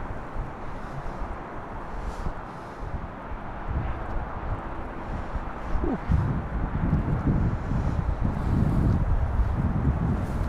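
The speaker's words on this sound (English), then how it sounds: "It is very windy." Strong wind blowing outdoors at Toronto Pearson airport in December, roaring buffets and rumbling gusts hitting the microphone, growing louder and rougher toward the end.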